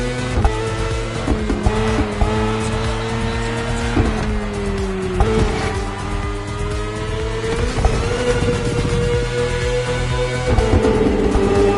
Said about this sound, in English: The one you're riding is the S1000RR